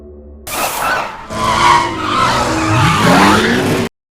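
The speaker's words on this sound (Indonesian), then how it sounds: "ketika melaju kencang, mobil Will terkena perangkap, sehingga terjadi kecelakaan" A car's tires squeal loudly in a long skid as it hits a trap at speed and crashes, with engine roar rising, then the sound cuts off abruptly.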